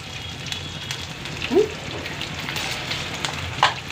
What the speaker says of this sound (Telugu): వేగుతున్నాయి కదా ఇప్పుడు వెల్లుల్లిపాయలు కూడా వేసుకుందాం ఎండుమిర్చి కూడా వేసుకుందాం